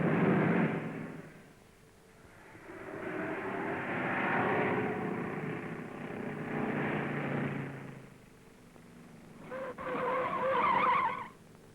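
A rally car skids and roars through a timed test at the 1956 Monte Carlo Rally, engine and tyre noise swelling and fading as it passes, with a harsher high-pitched squeal near the end.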